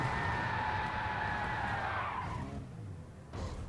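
Tires of a racing car in a racing video game skid and squeal without traction control, a loud sustained screech that fades out after a couple of seconds.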